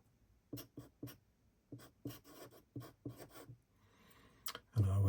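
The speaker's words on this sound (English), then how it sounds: "I need to write." Pen strokes scratching across paper in short bursts with pauses, close and quiet, followed by a louder rustle at the end; no talking.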